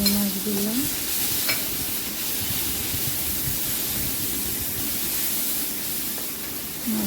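Prawns and onion fry in a pan with a continuous, close sizzle and hiss, broken by soft scraping as the mix is stirred.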